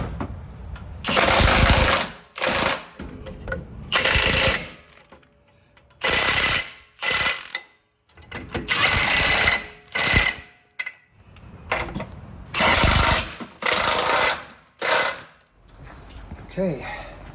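Jeep Wrangler JL lift kit bolts driven with a 21mm socket on a power tool, loud close bursts of rattling impact hammering lasting one to two seconds each, separated by short pauses and repeated many times.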